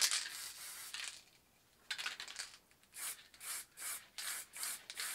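Water-based spray paint mists onto a canvas in short hissing bursts, one long spray followed by a rhythmic series of brief puffs with pauses between, close and fairly soft, with no voices.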